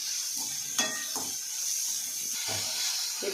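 Onions, carrot and capsicum sautéing in a pan for a bread omelette, a steady soft hiss of frying with a few faint stirring clatters, moderately quiet and without talk.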